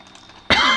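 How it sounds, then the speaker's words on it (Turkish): A single sharp, loud cough from a man who is slightly ill bursts out close by after half a second of quiet, during work on a sliding villa garden gate. "Özür diliyorum öksürük için."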